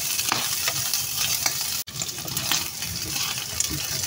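Food fries in a pan until brown for Filipino ginisang monggo with jackfruit and pork, a steady close sizzle broken by scraping stir strokes and a brief pause.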